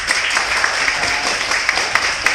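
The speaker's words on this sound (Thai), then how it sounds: "ขอเชิญปรบมือดังๆให้สารวัตรไก่อีกครั้งหนึงครับ" A crowd at a farewell party for Thai immigration officers applauds loudly, a thick continuous patter of many hands clapping at once with a few sharper claps standing out.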